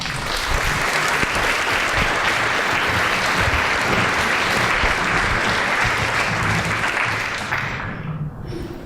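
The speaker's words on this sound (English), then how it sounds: "So please give them a round of applause." An ESU General Assembly audience applauds students with a long, even round of dense clapping that holds steady for most of its length before fading off at the end.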